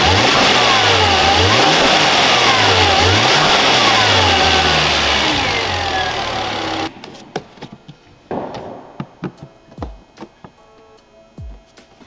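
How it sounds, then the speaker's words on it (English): A turbocharged Volvo S80 T6 fires up and revs with a strong, repeated rise-and-fall engine roar, then drops to quieter idling broken by sharp mechanical clicks and knocks nearby. "So I'm gonna start the car and rev it a little bit."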